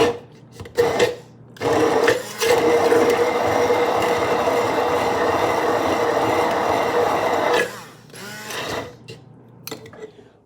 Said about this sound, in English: we'll blend it a little bit more